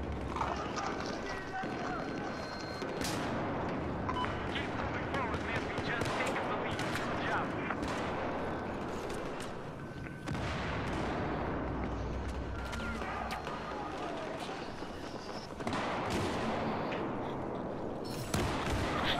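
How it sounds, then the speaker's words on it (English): Dense, continuous video game gunfire and chaotic combat noise fill the whole stretch, loud and steady with repeated shots blending into a constant clatter, while players talk over it. "I'm trying a stupid fucking gun James is using"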